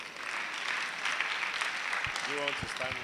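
Audience applause at a quiz competition finale fills the space, a dense steady clatter of many hands, with a voice starting to speak near the end.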